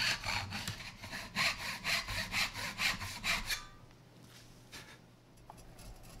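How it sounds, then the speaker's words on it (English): A hand saw cross-cuts a poplar board with steady, close, rasping strokes roughly every half second, stopping after about three and a half seconds, followed by quiet room sound without talking. "So first I ripped it, went beyond it a little bit, and now I'm cross-cutting it"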